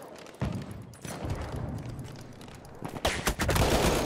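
MP18 gunfire in a first-person shooter game, sustained rattling bursts and booms that swell toward the end, loud and continuous with a faint voice underneath.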